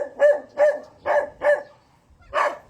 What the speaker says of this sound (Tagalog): Ito, tinatahulan ako ng aso.